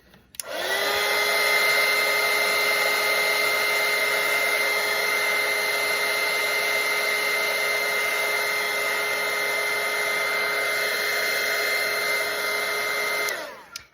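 A hair dryer runs steadily and loudly for about thirteen seconds, blowing over a wet pumpkin-and-bow watercolour painting to dry it, with a steady whine that starts and stops abruptly and no talking.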